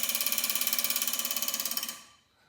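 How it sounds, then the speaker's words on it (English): Nitrous solenoids on a drag car fitted with an NX Maximizer 150-shot system click in a rapid, even train of about twenty sharp ticks, close and loud, before stopping abruptly with no talk over them. "you'll hear it clicking as it's starting to open up the nitrous solenoids more and more"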